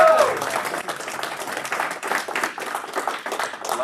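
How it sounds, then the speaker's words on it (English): An audience at a judged feedback event breaks into a round of applause, dense clapping for several seconds with a brief voice at the very start and crowd noise mixed in. "Round of applause for Jay."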